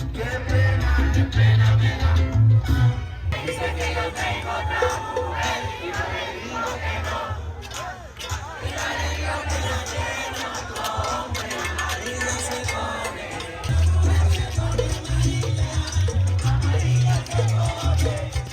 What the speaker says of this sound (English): Every year after the Salsodromo, the parade street becomes a giant street party